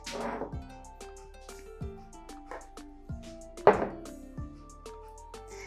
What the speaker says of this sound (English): We're going to cut these into 6 equal pieces.